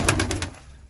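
A Turkish tumbler pigeon, a female, gives a short, close coo in a quick run of soft pulses that fade out within a second.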